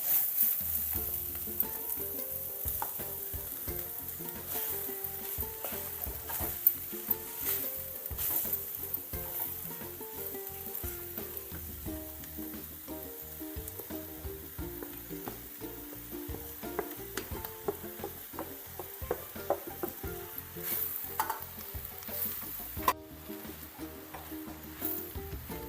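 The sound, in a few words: jackfruit sizzling and being stirred in a pan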